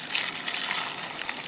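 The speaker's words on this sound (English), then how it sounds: "And then you're gonna pour some hot water." Hot boiled water pours in a steady close gush, a continuous bright splashing stream during Haitian-style chicken preparation.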